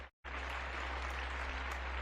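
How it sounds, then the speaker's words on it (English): A big round of applause breaks out after a brief silent gap, steady, dense clapping that fills the rest of the moment without any talk over it. "a big round of applause for her."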